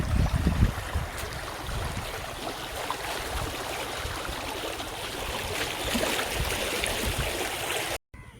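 Continuous broadband rushing of flowing stream water, steady and close, with a few louder low thumps near the start, then cutting off abruptly.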